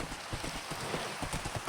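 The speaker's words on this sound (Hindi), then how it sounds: "घोड़ों को बाहर ही बांध देते कहीं पे दूर थोड़ा" Horses clip-clop in a Minecraft game, a quick, steady run of close hoofbeats that carries on without pause.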